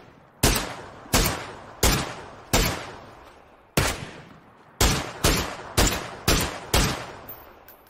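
Shots fired in a tactical first-person shooter match, about eleven sharp reports in uneven groups of one to three, each ringing out with a decaying echo, loud and close with no talk over them.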